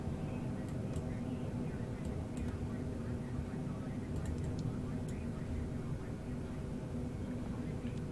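An airliner in Microsoft Flight Simulator climbs after takeoff from Madrid, a constant low engine drone and rumble filling the background at moderate level, with a person speaking quietly over it.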